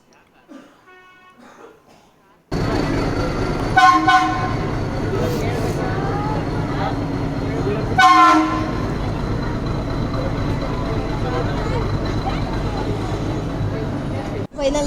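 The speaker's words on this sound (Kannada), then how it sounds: "ಸೊ ಈಗ ಫೈನಲಿ ಟ್ರೈನ್ ಬಂತು." Ooty toy train pulling in at a hill station, a loud continuous rumble of rolling wagons with two brief horn toots near 4 and 8 seconds, all close and steady after a quiet opening.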